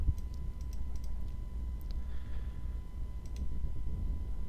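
A few sharp computer mouse clicks, as when pressing OK buttons, over steady low room hum with faint keyboard-like ticks; fairly quiet and close, no talking.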